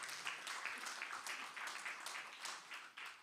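An audience at an Olbia literary prize evening applauds two special helpers, a fairly faint, steady patter of many hands clapping throughout.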